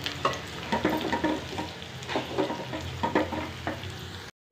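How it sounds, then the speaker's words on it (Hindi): Onions browning in a pan are stirred briskly for a home-cooked chicken liver dish. A steady sizzle runs beneath repeated scraping strokes, close and moderately loud, with no talk. "ये मेरा प्याज जो है वो ब्राउन हो जाए ज़रा"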